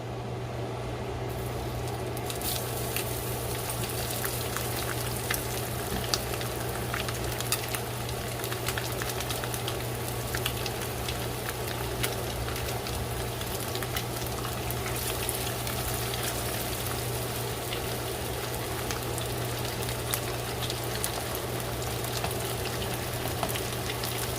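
Whiting fish fillets coated in potato starch fry in hot oil with a steady, dense sizzle and crackle, close and constant, under a low electrical hum and with no talking.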